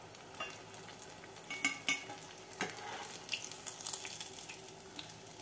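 Pieces of fish fry in hot oil, giving a soft, continuous sizzle with scattered light crackles and a few brief stirring scrapes, quiet and close.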